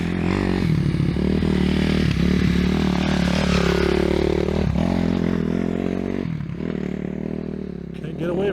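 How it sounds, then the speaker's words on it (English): A motorcycle on a desert trail near Reno, Nevada, rides past close behind hikers, its engine rumbling loudly with gravelly scrapes and clatter, while a voice talks over it. "Motorcycle right behind us."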